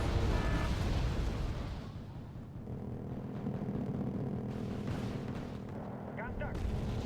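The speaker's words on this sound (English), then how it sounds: "A few of my BRDM are shooting" BRDM armored vehicles firing in the video game Wargame: AirLand Battle, a loud burst of gunfire and booms early, then quieter rumbling, with talk over the action.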